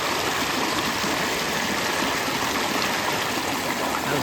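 A creek flowing over rocks along a hiking trail near a lean-to, a steady, full rushing of water heard close and continuous with no voices.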